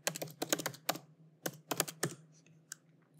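Rapid bursts of computer keyboard typing up close as a new file name is entered, a cluster of quick clicks, a pause, then a few more keystrokes over a faint hum.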